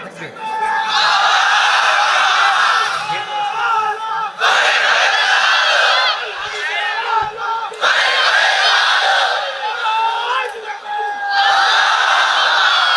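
Crowd at a religious sermon gathering shouting takbir: several loud, sustained collective chants rise and fall in repeated waves, with short pauses between them.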